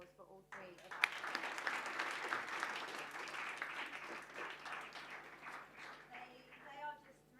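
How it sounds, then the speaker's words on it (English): An audience at a 2019 conference on AI in accessibility breaks into a round of applause, a fairly faint, dense patter of many hands that swells and holds, with a voice heard speaking around it. "Can we just have another round of applause for all three of us?"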